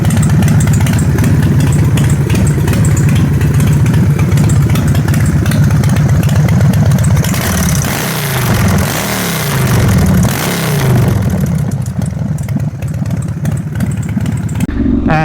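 A custom motorcycle engine, loud and close, idles with a rough, lumpy rumble, then blips through several quick revs before settling back into a steady throbbing idle.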